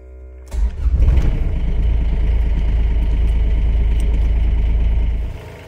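A cold, small supercharged Kubota diesel engine cranks and catches after a brief starter whir with glow plugs, then settles into a loud, steady clattering idle before cutting off.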